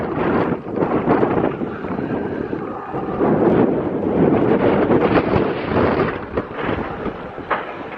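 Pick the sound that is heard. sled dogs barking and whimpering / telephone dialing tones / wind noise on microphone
wind noise on microphone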